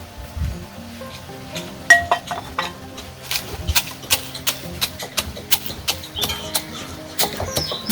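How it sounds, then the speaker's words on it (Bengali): Fried whole spices being ground into a fine powder for halim, heard as a steady run of close, sharp clinks and knocks with grinding scrapes between them, repeating irregularly throughout with no talking. "মশলা মিহি করে গুঁড়া করেছি।"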